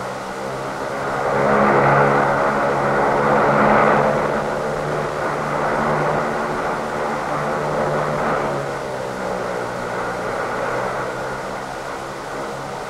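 OV-1 Mohawk reconnaissance aircraft droning steadily overhead as it flies home, a continuous propeller engine hum that swells slightly then holds level throughout.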